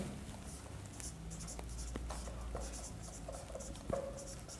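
A pen writing by hand, soft scratching strokes over a faint room hum, with a brief louder tap near the end and no voice.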